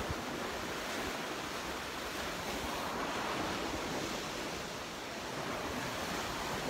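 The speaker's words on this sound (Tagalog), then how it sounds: "Oh, grabe yung alon na sa likod." Steady roar of ocean surf on the shore at a dive spot in Barangay Linao, continuous broadband wash of breaking waves with wind buffeting the microphone, no talk.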